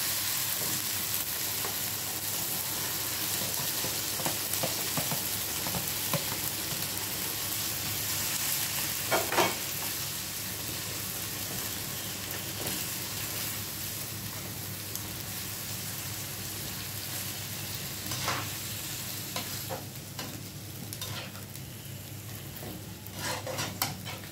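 Deboned chicken drumstick meat frying in a pan with a little sauce, giving a steady, dense sizzle throughout with occasional stirring clinks and scrapes.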